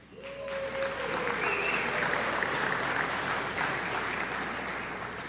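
Applause from an audience at a community award evening, a steady, full round of clapping that swells quickly and holds at a loud, even level throughout.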